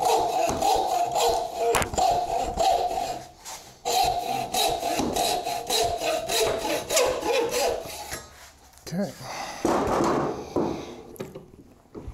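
A rip hand saw cuts through a wooden board with rhythmic back-and-forth rasping strokes, loud and close, pausing briefly between bursts of sawing.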